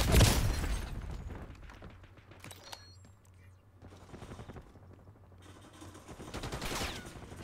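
Bursts of Call of Duty gunfire, sharp rapid shots at the start and again near the end, fairly quiet in the mix with game sounds and talk between them.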